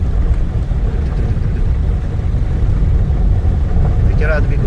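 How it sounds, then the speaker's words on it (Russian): Motorboats push forward through floodwater in Moscow during a very rainy summer, a loud, continuous low engine rumble mixed with wind noise, close to the microphone. "Катера двигаются вперед."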